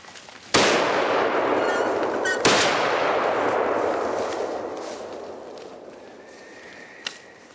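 A rifle shot fired during a driven wild boar hunt in the woods cracks out loudly, then a second shot follows about two seconds later, each trailing a long reverberating echo, with a faint click near the end.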